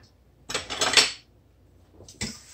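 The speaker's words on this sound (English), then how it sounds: "And we're just going to mix this all together. And I usually use a fork." A fork mixes carrot muffin batter with Greek yogurt in a bowl, making a short burst of scraping clinks, a pause, then another brief clatter, close and fairly quiet.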